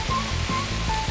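Small waterfalls spill between stones at the Boirpadav nature camp near Bilaspur, a steady, close wash of flowing water with a low rumbling churn underneath, constant and unbroken.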